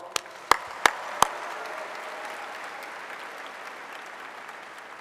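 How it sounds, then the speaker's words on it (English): An audience at a university new-student welcome event claps in a sustained wash after a few sharp, distinct individual claps near the start, the applause holding steady and fairly distant. "Let's give him another round of applause"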